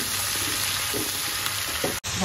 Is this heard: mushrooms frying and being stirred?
yes